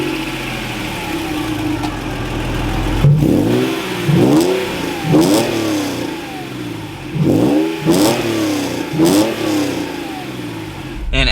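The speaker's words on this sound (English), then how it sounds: "Let's fire up this Acura NSX now." A 1996 Acura NSX-T engine cranks and catches, then revs hard several times in quick bursts, each rising and falling, loud and close.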